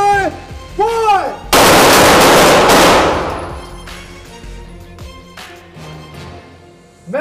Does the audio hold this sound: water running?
no